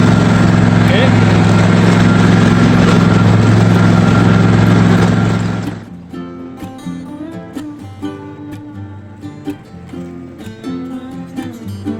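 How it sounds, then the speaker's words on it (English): A John Deere 155D lawn tractor engine roars loud and steady nearby for several seconds, then cuts off, leaving quieter scattered sounds. "I have been running the lawnmower tractor for over the half an hour"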